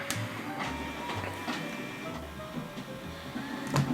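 A printer runs through a print job, whirring and clacking with repeated mechanical feed strokes and short motor pulses, close and fairly quiet, without talk.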